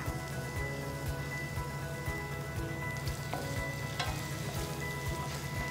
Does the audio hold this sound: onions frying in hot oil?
yes